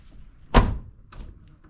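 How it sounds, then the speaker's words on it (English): Mazda Miata door closing after new bushings were fitted, a single solid close thunk with a brief latch click and a small rattle just after, in an otherwise quiet space. "We're gonna close the door."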